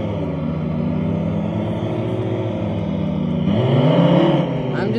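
Car pulling away in sport mode, its engine giving a steady, loud drone that swells as it accelerates toward the end, heard from inside the cabin with no talking.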